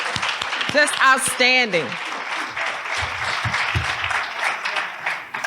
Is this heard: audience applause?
yes